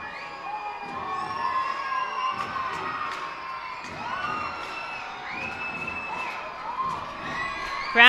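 A minor league baseball crowd at a Harrisburg Senators versus Reading Fightin Phils game roars and cheers steadily, with whoops and shouts rising over a sustained wash of voices and a sharp swell at the very end.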